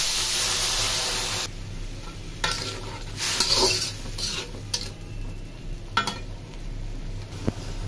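Eggplant and dried fish curry with green chilies frying in a pan, a steady sizzle that drops after the first moments, then intermittent stirring scrapes and clinks of a utensil against the pan, close by with no talk.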